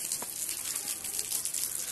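Steady, dense hiss of rain or pouring water fills the whole stretch, even and unbroken with no voices.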